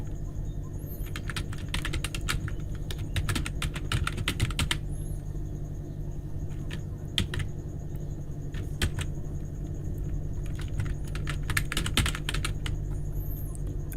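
Rapid typing on a computer keyboard, a steady run of close, crisp key clicks over a low background hum.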